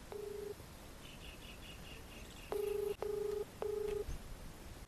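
Telephone keypad tones: one short beep, then three longer evenly spaced dialing tones in a quiet room, with faint chirping in the background.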